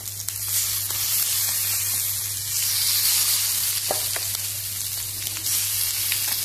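Chicken pieces fry in a pan over a medium gas flame, a steady, dense sizzle with crackling pops running throughout, close and continuous with no talking.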